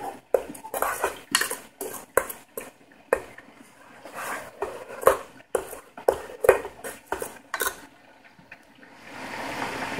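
Sweet chili sauce cooking down into a sugary syrup in a pan, stirred with a utensil that knocks and scrapes against the metal in loud, irregular clatters, pausing briefly before the sauce simmers softly at the end.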